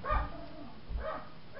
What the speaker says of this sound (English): Sorry for more barking in the background that you might hear.